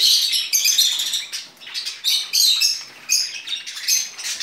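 Shrill, rapid cockatiel calls and chirps repeat in bursts close by, loud and insistent, with brief pauses between them.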